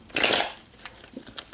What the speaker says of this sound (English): Okay, so I'm going to shuffle Gemini